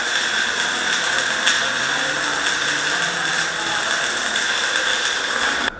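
Welding on a thin, rusted steel plate during repair of heavy equipment in a metal shop, a steady close buzzing crackle with a bright hiss, running continuously before cutting off at the end.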